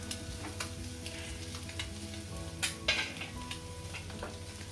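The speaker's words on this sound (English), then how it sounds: "Just give it a flip so as all these masala that we use gets up." Masala spices frying and sizzling in a pan, with a steady crackle under stirring and scraping and a couple of louder clatters as the mixture is flipped.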